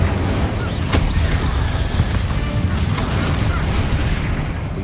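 An Incendio fire spell cast in Hogwarts Legacy gives a loud, steady, roaring rush of flame that fills the full five seconds with dense crackling noise and a deep rumble underneath.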